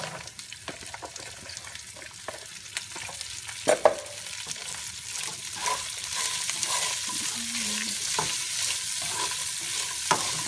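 Green ivy gourd (tindora) tempering in hot oil with a pinch of soda, a steady close sizzle with stirring clatter, the frying hiss growing louder in the second half.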